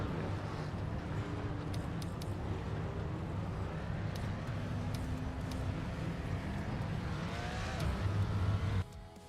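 BMW GT2 race car engines in Project Motor Racing roar steadily throughout, with rising and falling revs and a dense, continuous mechanical drone that cuts off abruptly near the end.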